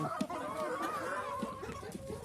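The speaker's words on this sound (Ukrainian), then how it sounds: "кури вон заходять щось по одній" Hens clucking inside a village barn as they wander in one by one, a steady low murmur of overlapping clucks with a few sharper calls, fairly close but soft.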